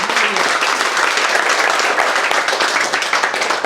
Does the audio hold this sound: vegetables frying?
no